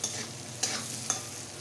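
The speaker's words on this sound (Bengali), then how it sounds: "সামান্য একটু লবণ দিয়ে দিচ্ছি, দিয়ে একটু ভেজে নেব।" Vegetables with a pinch of salt frying in a pan, a continuous hiss with two quick spoon stirs, close and unaccompanied by speech.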